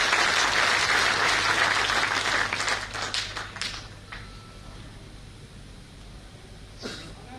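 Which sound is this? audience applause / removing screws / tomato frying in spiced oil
audience applause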